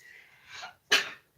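A single sharp, loud sneeze rises out of a faint intake of breath, heard close up and alone.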